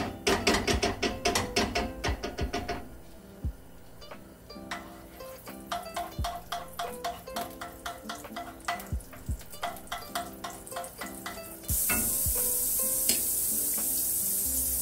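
Butter goes into a hot pan before pork chops are cooked. A long run of rhythmic, close mechanical clicks ends in a sudden, steady sizzle that fills the last few seconds.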